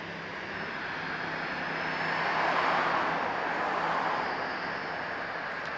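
A British Airways A320 airliner at Lisbon Airport, arriving as BA 502 from London Heathrow, makes a broad, steady jet rumble that swells gently and fades, heard from a distance with no talk.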